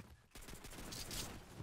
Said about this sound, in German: Über uns schießt ganz viel rum.